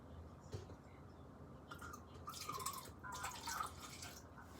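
Water trickling and dripping into a graduated cylinder at a lab bench, a faint, soft liquid pour that rises in the second half, with small splashy bursts and no talking.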